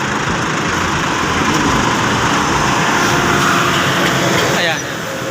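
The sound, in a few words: motorcycles speeding past on a road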